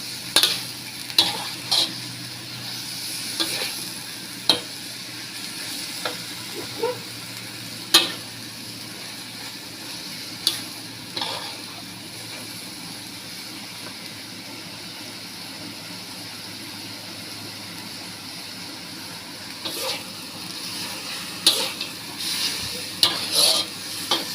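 Beef pad kee mao drunken noodles stir-fried in a pan, with a constant hissing sizzle broken by sharp metallic scrapes of a spatula at irregular intervals, close and steady, with no speech.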